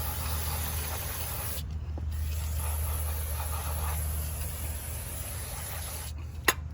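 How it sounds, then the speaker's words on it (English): Brake cleaner hisses from a spray can onto the rear brakes of a Ram 1500 pickup in a steady, faint, close spray, broken by two brief pauses, with a low hum beneath. "spray it good with the brake cleaner"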